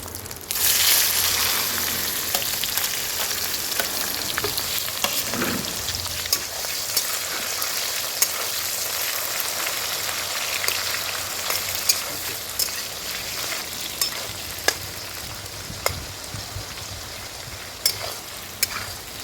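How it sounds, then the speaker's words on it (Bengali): Steady, loud sizzling of chopped onions frying in goat fat in a pan, with occasional sharp crackles and clicks of stirring throughout. "এবার এর মধ্যে আমরা দেব কুচনো পেঁয়াজ।"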